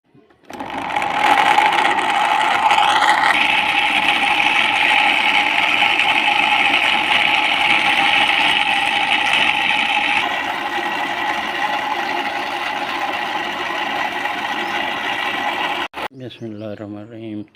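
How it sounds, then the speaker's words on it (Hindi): A blender grinds washed falsa berries with a little water in a lidded jug, a steady loud whir running for about fifteen seconds before cutting off abruptly, followed by a brief voice. "ढकना लगाकर इसको ग्राइंड कर लेंगे।"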